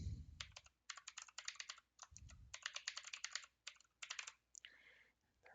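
Quick bursts of keystrokes on a computer keyboard enter an email address, clattering in rapid, uneven runs with short pauses between, close and clear with no talking.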